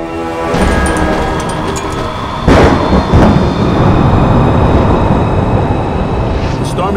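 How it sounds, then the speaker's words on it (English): An approaching thunderstorm in a disaster movie rolls with loud, sustained rumbling, a sharp crack of thunder partway through, then a continued heavy roar, with a voice briefly heard over it. "The storm is getting close."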